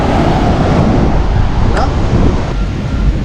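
Waves roll onto the beach at night beside a resort swimming pool on the East Coast Road, under a strong breeze that buffets the microphone in a steady, loud rush.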